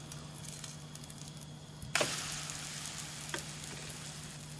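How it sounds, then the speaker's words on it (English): Pancake batter hits a hot oiled frying pan on a hob in a classroom, breaking into a sudden loud, steady sizzle that continues alone with a few faint crackles. "Pour in 3 to 4 spoons of batter onto the side."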